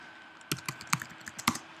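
Quiet, close clicks of computer keys being typed in a short irregular burst, about ten taps after a brief silence.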